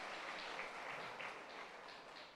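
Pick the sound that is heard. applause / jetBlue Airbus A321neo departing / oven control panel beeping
applause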